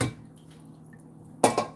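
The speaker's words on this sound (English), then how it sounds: "I like being live when I'm washing dishes." Dishes being washed in a sink: a quiet stretch with faint drips, then a couple of sharp clinks and clatters of crockery close by.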